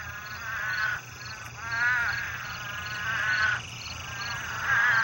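Couch's spadefoot toads call during desert rains, with loud, bleating croaks repeating about every second and a half over a dense, distant chorus of other calling toads.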